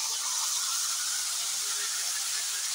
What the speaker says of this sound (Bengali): এরপর আমি তেঁতুলের যে কাঠটা বের করে রেখেছি সেটা ঢেলে দেবো।